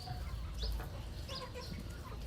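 Chickens of a Burmese fighting-cock bloodline on a farm, with faint scattered clucks and calls over a steady low rumble of background noise.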